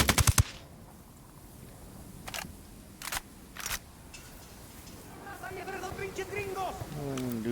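Gunfire in the video game Ghost Recon Wildlands: a quick burst of rapid shots at the start, then a few spaced single reports, followed by distant in-game voices and ambient game sound.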